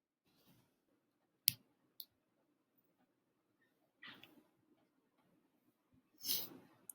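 Mouse clicks during software use, a few sharp isolated clicks spaced seconds apart with faint rustles between, quiet and close.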